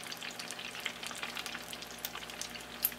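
Chicken pieces bubble and crackle softly in hot oil during the first fry for Korean dakgangjeong, a faint, continuous sizzle with scattered pops.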